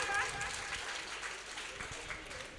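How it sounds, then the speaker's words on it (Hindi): An audience at a children's poetry gathering during a religious festival in India applauds with steady, broadband clapping that fills the room and persists without breaks, slightly distant and mixed with murmuring voices. "तालियां बजाएं एक बार।"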